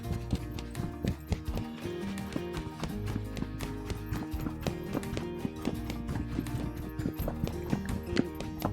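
A gaited horse's hooves clip-clop in a steady rhythm while the horse is ridden through walk, trot and canter transitions, with a faint whinny and background music-like tones.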